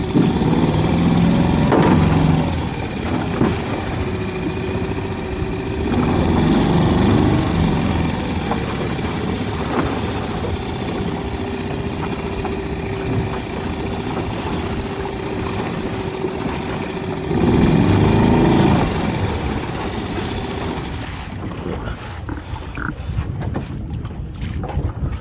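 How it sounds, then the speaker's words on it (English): Outboard engine of a small dinghy on a dawn crab-potting trip, a steady close droning hum running throughout, with gusts of wind buffeting the microphone and rising intermittently over it. "If you pull fast again, I'll keep the engine going."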